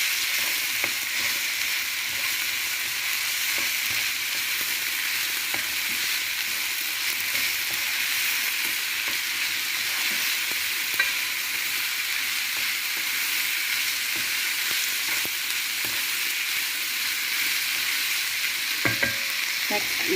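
Beans stir-frying in a pan for spring roll filling, a steady close sizzle with occasional stirring scrapes running continuously throughout, no talking.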